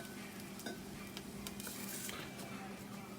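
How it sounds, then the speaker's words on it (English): Golden fried mushrooms get scraped aside in a pan with a spatula over a steady low sizzle of oil, with a few soft clinks and scrapes up close. "Just going to scoop them to the side and drain off some of that excess"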